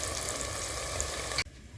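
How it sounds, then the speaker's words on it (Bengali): Onion frying in a pan, a close, steady sizzling crackle that stops abruptly just before the end. "পেঁয়াজ ভাজা হতে হতে আমি একটা মশলা পেস্ট তৈরি করে নেব।"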